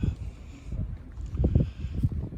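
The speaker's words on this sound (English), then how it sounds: "The wind's blowing." Low, gusty wind on the Appalachian Trail on a cold day rumbles and buffets the microphone, rising and falling in uneven surges with faint rustling, no voices.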